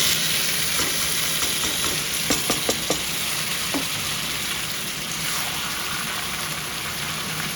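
Marinated chicken hitting fried onions in a home biryani pan sets off a steady, loud sizzle that runs throughout, with a few sharp clinks of stirring partway through; no one speaks.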